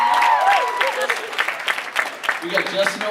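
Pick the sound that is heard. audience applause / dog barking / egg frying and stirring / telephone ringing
audience applause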